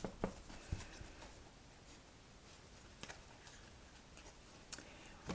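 Shaman cards are shuffled by hand: a soft, continuous papery rustle with scattered light ticks and taps, faint and close, with no talking.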